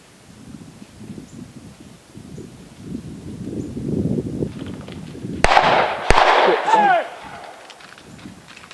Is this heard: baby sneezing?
no